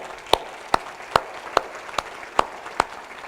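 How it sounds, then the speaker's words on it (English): Slow, sharp claps ring out in an even rhythm at an inclusion summit, about seven distinct hand claps spaced roughly 0.4 seconds apart over a quiet room, sounding like a single person or a small group clapping. "Can I give a round of applause for them, please?"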